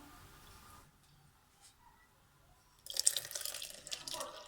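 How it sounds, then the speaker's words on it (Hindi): Milk poured into a tawa cake batter of blended sugar and eggs: near-silence for about three seconds, then a close, bright splashing pour that runs steadily to the end. "अब मैं इसमें 1 कप दूध डालूँगी।"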